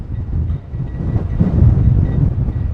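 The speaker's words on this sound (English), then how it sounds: "It's actually so windy I can see it moving the gimbal a little bit." Strong wind buffeting a phone microphone mounted on a gimbal stabilizer outdoors, a steady low rumbling roar that swells and gusts throughout with no speech.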